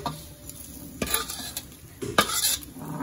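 Anchovies (dilis) fry in a pan, a soft sizzle punctuated by several sharp clinks and scrapes of a utensil against the pan, close by and without talk.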